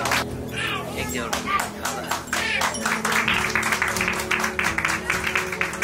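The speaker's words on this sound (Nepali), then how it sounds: "ताली बजाइराख्नु होला है भीम बाबुज्यूलाई" An audience claps at an annual anniversary award ceremony, with dense crackling applause that swells and carries on while a voice talks over it.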